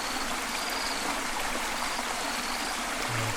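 Jungle stream in Malaysia running heavily after overnight rain, a steady, full rushing of water close by that fills the whole clip without a break, with no voices.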